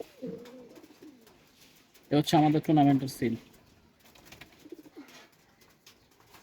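Tournament racing pigeons coo in a low, throaty burst close by while someone talks quietly before and after.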